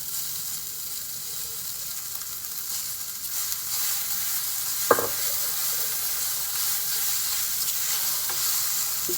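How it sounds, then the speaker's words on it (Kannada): Fried okra (bhindi) goes into a hot pan and sizzles, a continuous bright crackling hiss with one sharp clink partway through. "ಇವಾಗ ನಾನು ಬೆಂಡೆಕಾಯಿ ಫ್ರೈ ಮಾಡಿರೋದನ್ನ ಹಾಕೊತಾ ಇದ್ದೀನಿ."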